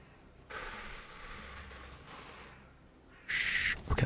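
In Valheim, a bird's calls sound in a few separate bursts against a quiet game background, with a louder, brighter call near the end.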